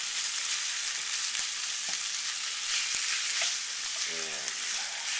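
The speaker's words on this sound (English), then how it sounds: "you want to throw that in and start chunking it up" Home-ground meat fries in a pan with a steady broadband sizzle, broken by a few sharp clicks of a utensil breaking it into chunks and a brief scraping rattle near the end.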